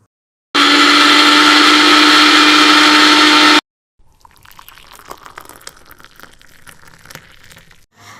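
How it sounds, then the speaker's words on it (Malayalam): A kitchen mixer grinder blends Parle-G biscuits with sugar and milk, a loud steady whir for about three seconds that stops abruptly, then quieter rattling and sloshing as the jar is handled. "മിക്സി എടുത്തു, കുറച്ച് പാർലേജി ബിസ്ക്കറ്റ് എടുത്തു, അത് അതിനകത്തോട്ട് ഇട്ടു, പഞ്ചസാര ഇട്ടു, പാലൊഴിച്ചു, അടിച്ചു."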